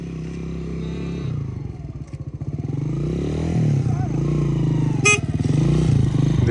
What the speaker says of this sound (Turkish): Bekle motosiklet geçsin.